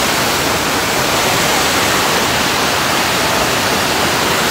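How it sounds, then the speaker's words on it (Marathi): River water flows in a steady, loud, unbroken rush close by, a dense even hiss with no other sounds standing out. "इथे सगळीकडे असं पाणी वाहतं"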